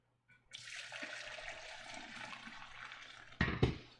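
Chicken stock pours steadily into a plastic stock separator in a home kitchen, a continuous close splashing trickle that ends with a couple of louder sloshes.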